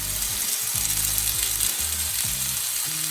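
Chicken shish pieces sizzling in a greased pan, a dense, steady frying hiss with crackle, close and continuous, alongside a low rhythmic mechanical hum, with no talking.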